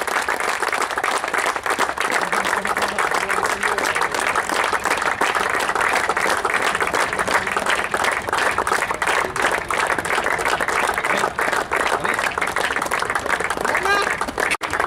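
Continuous applause from a crowd at a cricket tournament in a stadium, steady and fairly loud throughout, with no pause.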